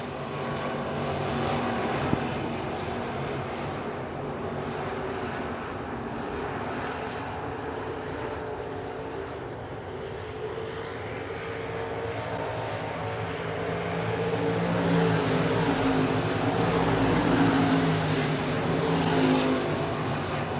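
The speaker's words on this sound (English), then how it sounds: "Mike Stapleton now breaks into the top 5 as he passes Lundquist to the low side" SportMod and stock cars racing on the dirt oval at Crawford County Speedway, a continuous roar of engines that swells louder toward the end as cars pass close by, heard without any talk.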